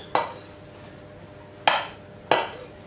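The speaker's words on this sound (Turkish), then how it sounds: "Ve karıştırıyoruz." Pasta salad is stirred in a bowl, three distinct scraping strokes of a utensil spaced over a few seconds, close and clear against a quiet background.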